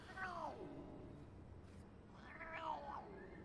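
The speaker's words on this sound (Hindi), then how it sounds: "ओह, बिल्ली है।" A cat in a Hindi/Urdu-dubbed Iranian drama meows twice, each call rising and falling, fairly close and clear over a faint room hum with a short gap between them.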